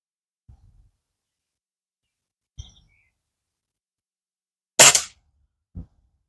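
A Norica Titan air rifle fires a single sharp, loud pellet shot, preceded by faint handling clicks and followed a moment later by a short thud, all close and isolated in near silence.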